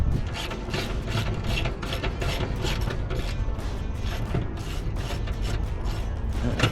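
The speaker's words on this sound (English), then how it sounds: "it's nice when you can swing the ratchet around" A ratchet wrench turns a bolt on the front bumper of a Hummer H3, giving a continuous rapid clicking and ratcheting close by with steady loudness throughout.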